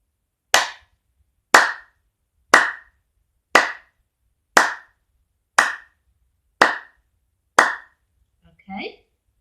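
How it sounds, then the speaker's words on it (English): A teacher claps a rhythm pattern in a primary school music lesson: eight sharp, evenly spaced claps ring out alone, close and loud, followed by a short murmur of voice. "write down that number, which one you think it was I clapped"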